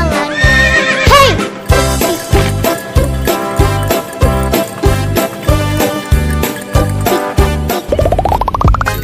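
Horse neighs ring out in a bright children's song with a steady pounding beat, a whinny rising loud near the start over the rhythmic music.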